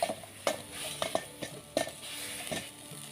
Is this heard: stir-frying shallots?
yes